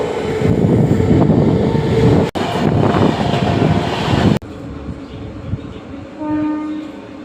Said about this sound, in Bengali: এই যে এটা মুম্বাই হাওড়া এক্সপ্রেস পাস হচ্ছে।